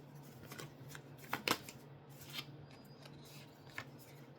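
Tarot cards being shuffled and drawn by hand, soft papery riffles and slides with a sharper flurry near the middle, close and quiet with no talking.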